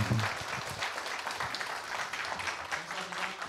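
Applause for a history professor after a lecture at a humanities forum, a dense, steady clapping from an audience that carries on evenly for several seconds.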